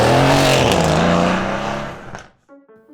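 Mercedes-AMG C63 S twin-turbo V8 exhaust roars loud and close, holding a deep rumbling note that fades away over about two seconds, followed by quieter engine burble and faint tonal sounds.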